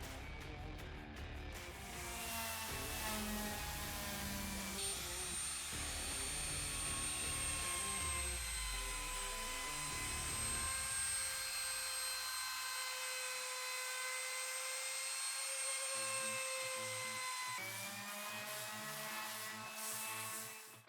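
Power sander working an end grain chopping board, first with 60 grit then 120: a steady high whirring drone with shifting tone as the sander moves and loads, running continuously and fairly close.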